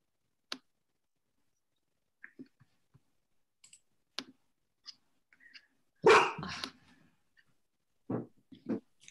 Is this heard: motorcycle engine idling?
no